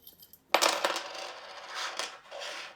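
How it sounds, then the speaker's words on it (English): A handful of coins for a tabletop coin-battle game shaken together in cupped hands: bright metallic jingling and rattling that starts abruptly, then swells and fades in close, repeated bursts. "I'm just going to shake all the coins at once"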